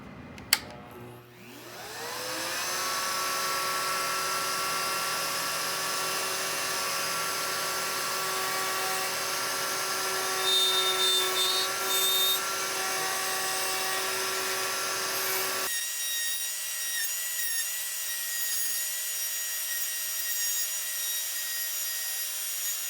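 A PantoRouter machine routing tenons in wood starts up with a rising whine and then holds a loud, steady roar, cutting off abruptly near the end and leaving only a high-pitched tone. No one speaks.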